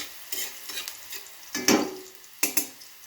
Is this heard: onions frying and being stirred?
yes